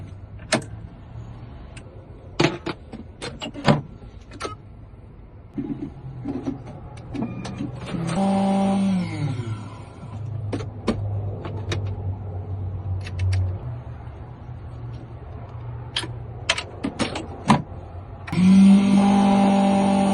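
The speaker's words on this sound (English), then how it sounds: "I'm going to cut this key" Key cutting machine cutting a key for a Chevy Equinox, heard as close mechanical whirring and grinding runs mixed with sharp clicks and knocks, ending in a louder sustained motor hum, with no speech.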